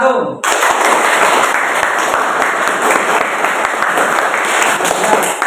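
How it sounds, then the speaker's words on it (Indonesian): Steady applause from a classroom audience for the first presenter, dense continuous clapping that starts abruptly and carries on loud and even throughout. "Tepuk tangan untuk nomor 1."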